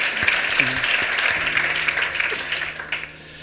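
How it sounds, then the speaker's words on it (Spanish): Audience applause at a leadership talk: a steady, dense wash of clapping that carries on for several seconds and fades slightly at the end, with a voice speaking over it. "Pues aplauso"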